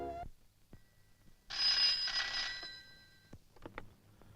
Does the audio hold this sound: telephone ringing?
yes